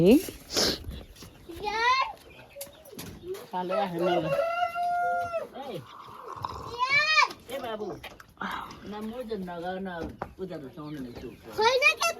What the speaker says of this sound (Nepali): एरिको भालेले त ठुङ्छ है